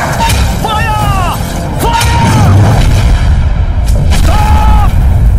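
Artillery gun fire in a Hindi-dubbed South Indian action film: loud, dense booming sustained throughout, with raised voices calling out over it and strong background layers.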